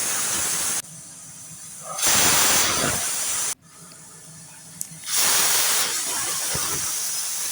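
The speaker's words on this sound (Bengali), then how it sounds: "কুকার বসিয়ে দিলাম গ্যাসের ওভেন জ্বালিয়ে সিটি পড়ে যাচ্ছে" A pressure cooker whistle on a gas stove, used for boiling banana flower, vents steam in loud hissing bursts, two long jets separated by quieter hissy stretches, close and with no talk.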